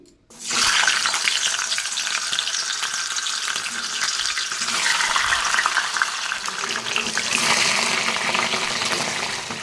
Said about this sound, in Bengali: মুড়োগুলো এখন হচ্ছে ভেজে নিই